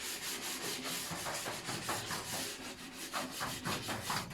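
Hand sanding old varnish off recycled wooden furniture, a close, steady run of scratchy back-and-forth strokes in a quick rhythm.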